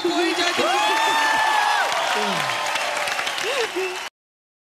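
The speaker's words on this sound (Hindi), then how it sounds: "ताली बजाओ" A studio audience on a TV entertainment show applauds and cheers loudly and continuously, with whoops and a voice calling out over the clapping before it cuts off abruptly.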